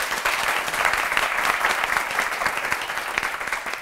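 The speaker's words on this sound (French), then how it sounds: "Est-ce qu'on peut s'applaudir, s'il vous plaît?" Audience applause at the end of a game round in a French-language elimination contest, a dense, steady clapping that fills the space and gradually tapers off.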